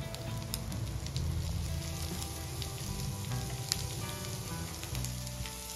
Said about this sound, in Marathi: आता या स्टेजला आपण कांदा ऍड करून घेऊया